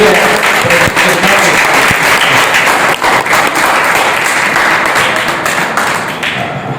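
Sustained audience applause at a Hindi poetry recital event, loud and dense throughout, tapering slightly near the end with no speech over it.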